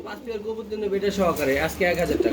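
White Running Beauty pigeons coo in low, repeated throaty calls close by, mixed with someone talking over them.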